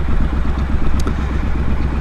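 Motorcycle engine running steadily at low speed while the rider pulls in the clutch and clicks down a gear climbing a slow hill, a continuous close rumble with slight clatter and no voice.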